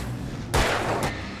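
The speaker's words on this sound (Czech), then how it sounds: "Střelba je lehce zautomatizovaná a kulky tak dopadají okolo světelného kuželu od baterky." Two sharp gunshots ring out in the PC version of the video game Alan Wake, the first a heavy booming blast and the second a shorter crack about half a second later, each loud against a low ambient hum.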